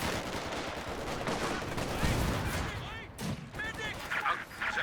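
A machine gun fires in a Company of Heroes 2 battle amid dense gunfire and explosions, rapid bursts mixed into continuous combat noise with a commentator talking over it.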